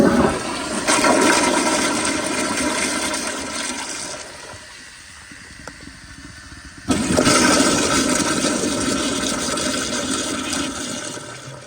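A 1993 Kohler Kingston toilet flushing, a loud close rush of water that fades into a quieter gurgle, then surges strongly again and keeps roaring to the end.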